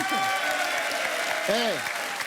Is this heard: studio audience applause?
yes